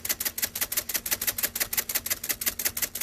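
An IBM Selectric typewriter mechanism runs with its cams cycling, producing a rapid, very regular train of sharp mechanical clacks, about six per second, close and even throughout.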